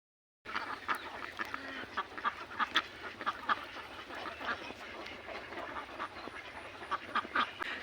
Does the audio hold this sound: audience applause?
no